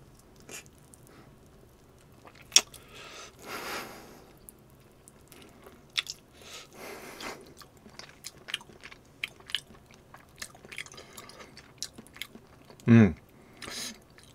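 Someone bites and chews homemade seasoned pork ribs, tearing the meat off the bone. Soft, close mouth sounds come in scattered bursts, with one sharper bite near the end, against a quiet room.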